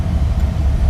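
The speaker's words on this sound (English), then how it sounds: "Cold start, fire right up." A 1975 Oldsmobile Delta 88 engine just after a cold start, a steady low rumbling idle that stays loud and even throughout, with no voices.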